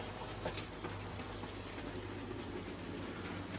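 A Hornby model train runs steadily along its track, a continuous low rumble with light rhythmic clicking, fairly faint and even throughout with no talk.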